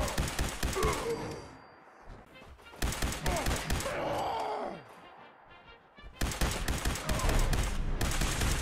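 Heavy gunfire in the America Rising mod of a video game: loud, dense bursts of rapid automatic fire in three long stretches, broken by short pauses filled with shouting and combat noise.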